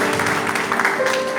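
A church congregation applauds during a Baptist Sunday service, a steady, dense wash of clapping close around the listener.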